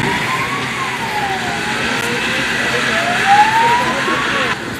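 A ZIL-131-based ambulance and an emergency rescue vehicle head to a forest-fire drill scene, a siren wailing in slow rising and falling sweeps over steady engine and road rumble, with someone talking throughout.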